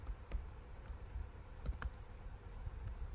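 Typing code on a computer keyboard, a quiet, steady run of close key clicks with a few sharper taps, irregular in rhythm, no voices.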